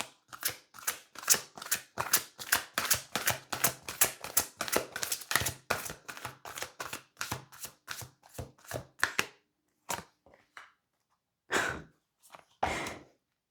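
Tarot cards are shuffled by hand in quick rhythmic riffles, a dense run of crisp flutters that thins to a few scattered shuffles toward the end, close and fairly quiet with no talk.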